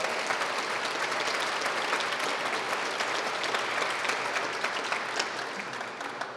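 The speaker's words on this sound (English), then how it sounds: "can we please give a huge round of applause to Johnson & Wales University again for being a great host" Sustained, dense applause from an audience at a community event at Johnson & Wales University, loud and steady throughout and tapering slightly at the end, with no voices over it.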